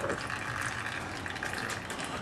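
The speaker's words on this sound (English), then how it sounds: "That's the sound of the fork peeing into the oil container." Motorcycle fork oil draining into an oil container, a faint, steady trickling and splashing of liquid heard close by and alone.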